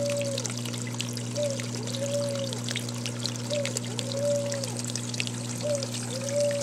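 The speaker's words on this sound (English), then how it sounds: "you can see where the water's coming down the wall right here" Water trickling and dripping down the tiered wall of an Exo Terra dart frog vivarium, a soft continuous stream with small splashes, steady under a constant electrical hum and rhythmic whistling tones.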